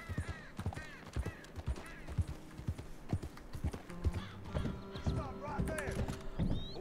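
Horse hooves clip-clopping at a steady walking rhythm in Red Dead Redemption 2, fairly close, with occasional game voices and ambient sound layered over the hoofbeats.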